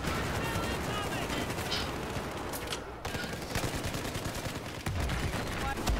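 Battlefield 4 infantry combat with a human wave charge: dense, continuous gunfire and rapid shots with occasional heavier shotgun-like blasts, loud and close, with scattered voice.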